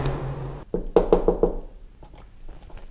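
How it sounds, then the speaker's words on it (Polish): Four quick, firm knocks on a door in an even rhythm, close by, followed by a softer pair of knocks. "Pukamy tutaj."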